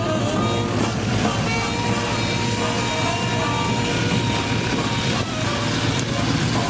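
A vintage warbird airplane at the Tico Warbird Airshow 2013 drones past with a loud, steady engine roar that fills the whole stretch, close and unbroken, with no clear voices over it.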